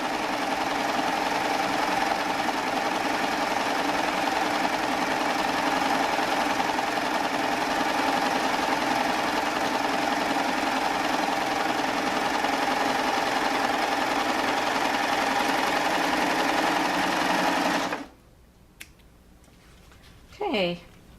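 A Baby Lock Triumph sewing machine stitches with a lace applicator foot, a loud continuous mechanical hum and whir running for about eighteen seconds before stopping abruptly, followed by someone speaking.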